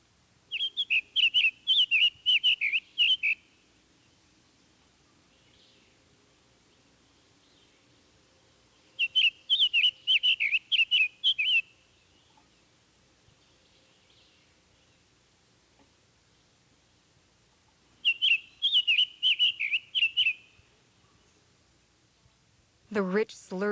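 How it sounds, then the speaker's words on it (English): A Summer Tanager sings soft, sweet phrases of quick chirping notes in three clear bursts separated by long quiet gaps, heard fairly close over a quiet background. "The soft, sweet song of the Summer Tanager."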